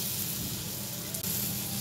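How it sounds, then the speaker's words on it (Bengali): Sliced potatoes and pointed gourd fry in a little oil in a pan, giving a steady close sizzle with a faint scrape or two and no talking. "এবারে পটলটা একটু হালকা ভাজা হয়ে গেলে আলুটাও ওর সাথে দিয়ে ভেজে নেব।"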